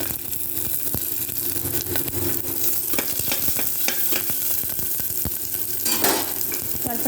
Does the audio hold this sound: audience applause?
no